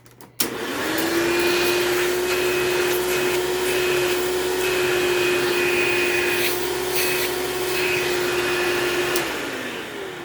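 A direct-air vacuum cleaner runs with an attachment tool, a loud, steady motor whine with a sustained tone that holds for several seconds before spinning down at the end, with no speech.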